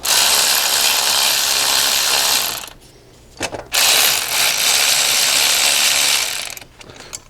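Ratchet wrench tightening starter bolts on a Honda Accord, with rapid close clicking pawl bursts, a short pause, then more sustained ratcheting that tapers off.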